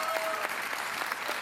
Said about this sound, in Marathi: त्याबद्दल जोरदार टाळ्या त्यांच्यासाठी झाल्या पाहिजेत